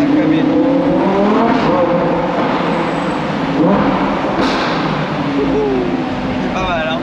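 A Lamborghini engine roars and revs, its pitch rising and falling in surges, loud and close, with a brief squeal near the end.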